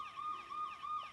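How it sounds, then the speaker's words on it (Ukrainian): A fire engine siren wails in repeating rising-falling sweeps, a steady mid-loud tone with no talking. "Це сирена пожежної машини."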